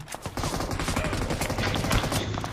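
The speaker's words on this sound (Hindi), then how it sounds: "सामने से गोली चलाते हैं M249" Rapid bursts of M249 machine gun fire in BGMI crackle in a quick, dense rattle, fairly close and continuous over a couple of seconds.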